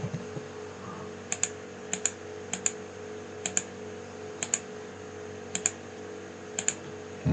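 Keystrokes on a computer keyboard while working in Revit software, a sparse run of single and paired clicks spaced about a second apart over a steady low room hum, close and fairly quiet, no voices.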